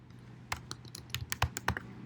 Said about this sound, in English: So I type a little longer key and 5 letter